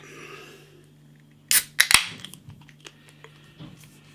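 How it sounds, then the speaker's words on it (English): Can of Workhorse West Coast IPA cracking open, with a sharp metallic snap and hiss burst in the middle, followed by a few fainter clicks and fizzing, close and alone. "Little bit of smoke on the can opening"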